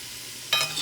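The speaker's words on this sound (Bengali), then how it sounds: "তো সব ফুচকাগুলোই আমি এইভাবে ভাজা করে নেব।" Phuchka puffs frying in hot oil, a quiet hiss that swells abruptly into a brighter crackling sizzle partway through, brief and close with no talk.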